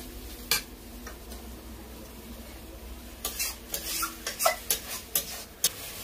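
Fried potato and pointed gourd go into a pan of masala and are stirred, bringing a faint sizzle under a series of sharp scraping knocks of a spoon against the pan that cluster in the second half.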